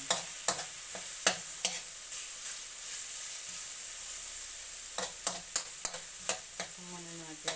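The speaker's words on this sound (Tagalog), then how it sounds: "Kumana natin hanggang manuot ang kanyang aroma ng luya and sibuyas." Ginger and onion sauté in oil for chicken tinola, a steady hiss of frying broken by sharp spatula scrapes and taps, spaced in the first half and clustered toward the end, close by with no talk.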